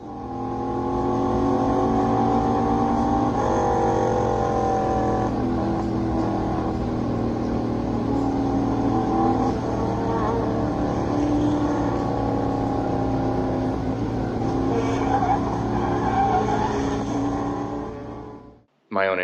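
A car engine drones steadily and close, with shifting tonal whine as it drives along, recorded on a Honda EG's rear dashcam, then cuts off abruptly near the end with a brief burst after.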